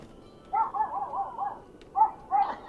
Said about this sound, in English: the doggo's probably barking at the doggos that I'm hearing outside